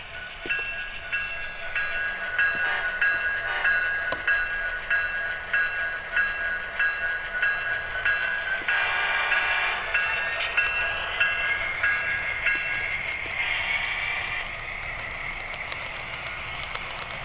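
A Genesis SD70ACE model train locomotive with onboard sound runs on a home layout, giving a continuous diesel engine drone with small rail clicks and a faint tonal hum, moderately loud and steady, with no talk.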